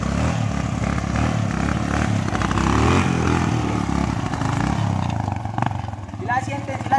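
A Yamaha XTZ 125 motorcycle engine runs close and loud in cold weather, rumbling steadily, then falters and sputters toward the end as it struggles and nearly stalls.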